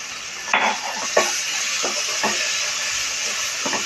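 Chopped onion fries in a hot pan with a pinch of salt for jowar upma, giving a steady close sizzle with a few sharp stirring scrapes and clinks spread through it.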